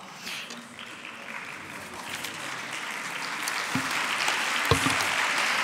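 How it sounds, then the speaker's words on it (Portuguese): An audience at a professional oath ceremony in Lisbon applauds continuously as honoured colleagues come up on stage, a dense steady patter of many hands that swells slightly toward the end. "têm uma missão muito importante, que é aplaudir fortemente para dar aqui algum ritmo à entrada dos vossos colegas"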